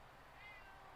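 A person imitates a cat's meow with a single drawn-out, nasal vocal cry, close and fairly quiet, with no other sounds around it.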